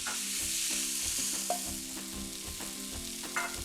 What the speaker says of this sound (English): At this point, I'm going to add the prawns. Today, I'm actually using king prawns, just shelled and deveined.